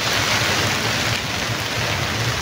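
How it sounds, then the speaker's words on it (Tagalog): Steady, dense hiss of rain falling continuously, a constant wash of sound with no voices and no breaks. "Kahit medyo maulan"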